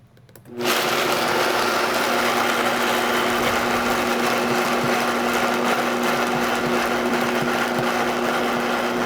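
Vitamix blender starting up on low speed to blend salted peanuts for peanut butter, a steady loud motor whine with a constant drone, running alone throughout.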